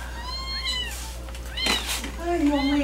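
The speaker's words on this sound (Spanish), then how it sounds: "¿Qué suena un gatico?" A kitten meows several times in a row, high and wavering, close by, with people talking over and around the cries in a home setting.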